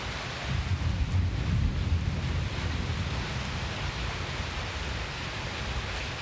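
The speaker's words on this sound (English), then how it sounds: "That is the heaviest thunder I've ever felt and heard." Heavy thunder rolls through a rainstorm in Fayetteville, Arkansas, a broad low rumble swelling early then settling into a steady roar of rain, loud and continuous with no voices.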